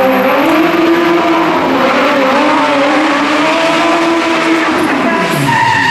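An Opel Corsa stunt car drives out at a theme park stunt show, a loud engine revving with shifting pitch and tire squeal over a sustained roar, heard from the crowd's distance.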